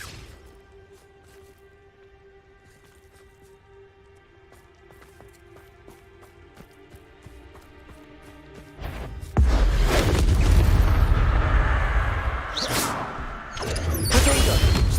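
Confringo blasting spell from Hogwarts Legacy, a sudden loud booming burst that cuts in after a quiet stretch of ambient game music and is followed by crackling, rumbling debris and a second surge.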